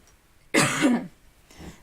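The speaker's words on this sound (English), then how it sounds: "Sorry for the coughing" One harsh, close cough, then a much fainter follow-up a moment later, with quiet room silence around them.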